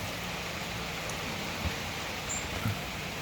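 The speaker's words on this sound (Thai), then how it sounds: "ฝนตกแรงครับ" Steady hiss of heavy rain pouring down, a dense even wash of noise with no voices.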